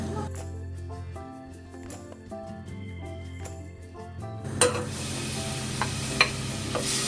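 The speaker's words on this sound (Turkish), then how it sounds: "Soğanımızı kavuralım." Onions sizzling in hot oil in a pot for Ezogelin soup, a continuous crackling fry that grows louder midway, with occasional stirring clinks and soft music underneath.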